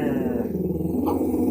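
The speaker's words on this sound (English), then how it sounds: "Look at him. He is a junkyard dog." Gizmo, a small junkyard-type dog, growls in a low, continuous rumble held close by for the whole moment, steady and unbroken.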